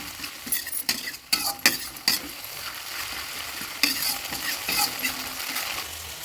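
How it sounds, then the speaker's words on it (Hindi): Vegetables cook with added spices in a home kitchen pan: a constant sizzle broken by a quick series of metal spoon scrapes and clinks against the pan, loud and close, with no voices. "अब इसमें मसाले डालकर हम पका लेते हैं"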